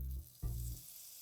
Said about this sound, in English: that's the sound you want to hear, a nice sizzle